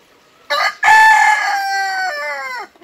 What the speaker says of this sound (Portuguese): Está cumprimentando também os amigos do canal, o galo.